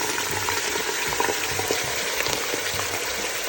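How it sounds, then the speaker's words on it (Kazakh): Meat sizzles and spits steadily in hot oil inside a kazan, cooked for a Kazakh-style fried lagman at home, with a dense, continuous crackle and no talking. "Қазанға май құйып қыздырамыз. Май қызған кезде етімізді саламыз."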